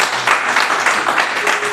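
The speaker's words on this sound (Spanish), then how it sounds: "¿Cuántos pueden darle un fuerte aplauso" A congregation at a church service claps together in a steady, fairly loud burst of applause, slightly reverberant, with no clear talking.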